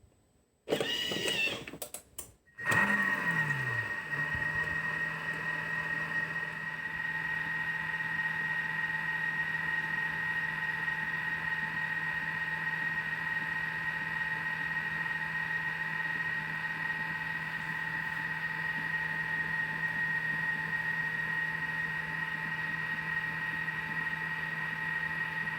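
A Thermomix heats baghrir batter at speed 2, 37 degrees: a brief clunk of the machine starting, then a steady mechanical motor hum with a high whine that holds unchanged for over twenty seconds, close and alone.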